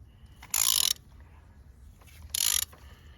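A ratchet tightening new spark plugs on a Volkswagen Golf GTI Edition 35 engine, two separate short bursts of rapid clicking, close and loud, with a quiet pause between them.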